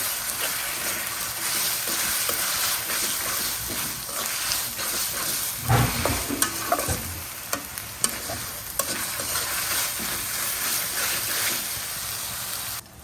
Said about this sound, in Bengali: আদা রসুনগুলো কিন্তু সুন্দর করে আমি ভাজা ভাজা করে নিছি